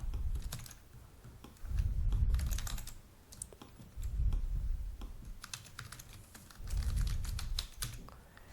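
Someone types data into a web form on a computer keyboard, producing steady bursts of close key clatter separated by short pauses, with no voices.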